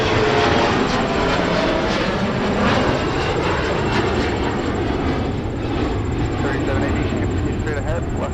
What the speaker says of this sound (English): Our FedEx ATR is here.